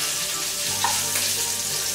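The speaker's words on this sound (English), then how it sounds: "You hear a nice sizzle" Pork sizzling in a hot pan while cooking a bolognese, a steady, loud frying hiss throughout with no talking.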